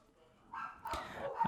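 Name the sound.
dogs barking in the background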